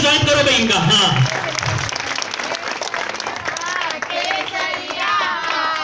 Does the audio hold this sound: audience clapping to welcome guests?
yes